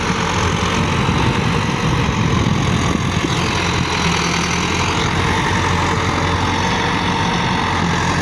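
A Massey Ferguson MF 385 tractor pulling a cultivator through a field gives a steady, loud diesel drone with a deep low rumble that holds without a break from start to finish.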